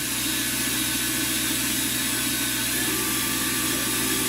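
A car engine runs at high rpm, producing a loud, continuous droning hum with a slight shift in pitch partway through as it is revved, and no voices are heard.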